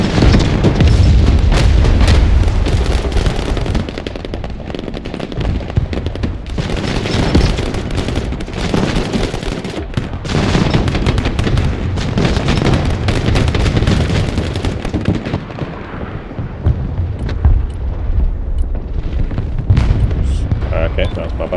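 Heavy bombing explosions in the Broken Arrow wargame roll out as dense, loud booms and rumbling blasts across the whole stretch, with gunfire crackling through and a voice talking over the combat.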